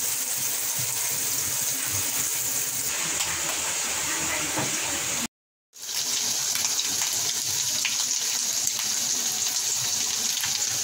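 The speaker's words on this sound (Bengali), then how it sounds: "পটল ভাজা হচ্ছে" Pointed gourd (potol) fries in hot oil with a steady, dense sizzling hiss that cuts out briefly midway and then resumes.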